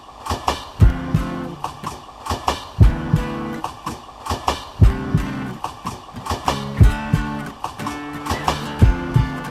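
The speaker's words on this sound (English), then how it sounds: "Train and heartbeats felt to me like journeying through life." A rhythmic train clatter sound effect rolls steadily along, matched to a song's tempo, while a deep, thumping heartbeat pulses in time with it, loud and close, no voices.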